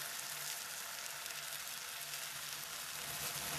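Tomato puree frying in a pan while cooking okra gojju, giving a steady, close, unbroken sizzle that holds at an even level throughout, with no one speaking.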